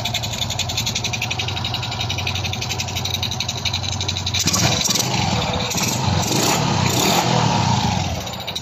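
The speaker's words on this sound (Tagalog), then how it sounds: "Taon natin kanyang ignition at pandarin natin ang kanyang motor." A TVS Rock Z 125 motorcycle, freshly overhauled with a new connecting rod, runs at a steady close-range idle. About halfway through, the engine note shifts to a louder, rougher rumble as it keeps running.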